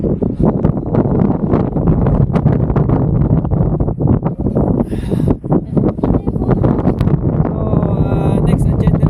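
Strong gusty wind on Mt. Olis in Atok, Benguet, buffets the microphone with loud, rumbling blasts that surge and dip throughout, with voices faintly heard beneath it.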